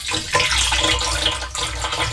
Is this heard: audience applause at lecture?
no